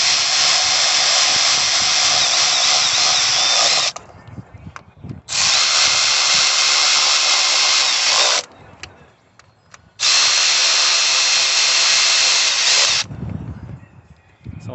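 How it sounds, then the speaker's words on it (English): A power ratchet tightens spark plugs during a Ford petrol engine service, three long, loud whirring bursts of about three to four seconds each, separated by short pauses with faint clicks and handling noise. "get the ratchet back on that and tighten it up"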